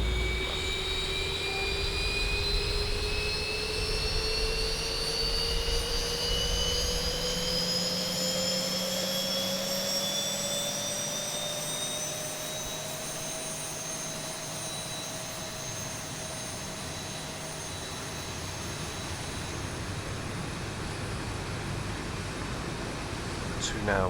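A Boeing 737 jet engine spools up during start in the X-Plane 11 flight simulator, a steady loud whine rising slowly in pitch over a constant roar, with a voice talking over it.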